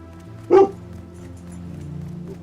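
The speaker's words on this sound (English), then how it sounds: "What are you barking at?" A dog in a video game lets out a single sharp bark over a low, steady background hum of game sound.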